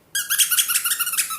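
A rubber duck dog toy gives a fast series of bright, high squeaks, about a dozen close, loud pulses in a steady rhythm, with no talking.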